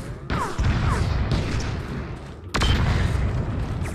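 Grenade blasts in the Xbox shooter Brute Force, two sharp booming bursts with rumbling tails, the second louder, over a steady bed of combat noise.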